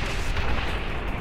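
A shotgun fires in the video game Quake 4, a dense, loud, booming burst of gunfire and explosive noise filling the whole moment, with no talk heard.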